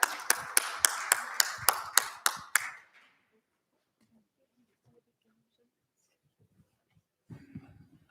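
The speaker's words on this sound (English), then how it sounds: "We welcome you with a round of applause." A handful of sharp, evenly spaced claps at a Houston Marathon press conference, close and distinct for under three seconds, then near silence with a faint voice and rustle at the end.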